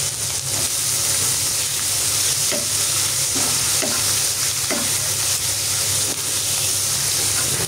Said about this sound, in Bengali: চিংড়ি মাছ দিয়ে আমি বেশ কিছুক্ষণ ভেজে নিচ্ছি।